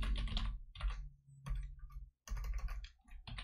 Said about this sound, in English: I need a new fucking keyboard.